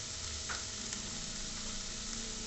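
A paste of ginger, tomato and garlic fries in hot oil for pav bhaji, giving a steady, close sizzle. A faint stir or scrape cuts in briefly.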